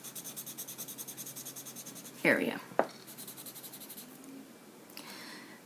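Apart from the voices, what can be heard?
ebony pencil drawing on paper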